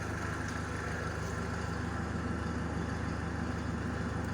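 A 2006 MAN TGA D2066LF01 430-horsepower truck diesel engine runs at a steady, even drone with a constant low hum, heard alone without talk.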